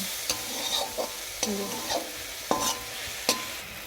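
Leafy greens are stirred in a hot pan to cook off their water, a low sizzle broken by repeated scraping strokes of a spatula at a steady, unhurried pace.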